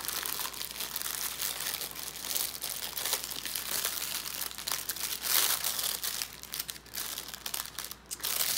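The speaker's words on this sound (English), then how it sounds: "So they are packaged in this clear plastic bag." A clear plastic bag of diamond painting drills crinkles and rustles close by as it is handled, with continuous irregular crackling and a few sharper crunches.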